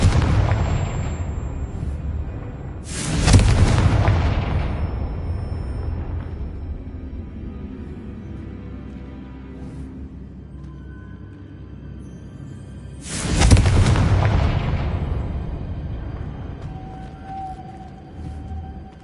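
Confringo spell explosions in Hogwarts Legacy, two loud, deep booming blasts about ten seconds apart, each with a sharp onset and a long rumbling decay.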